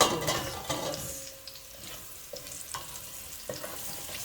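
Mangoes drop into a hot pan and cook, giving a soft, steady sizzle broken by a few light stirs and scrapes against the pan, close and fairly quiet, with no talking.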